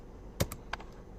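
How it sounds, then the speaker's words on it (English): Sharp clicks of computer keyboard key presses during Figma design work: two close taps followed by a softer third, near and alone against a quiet background. "So I'm going to click on R on my keyboard"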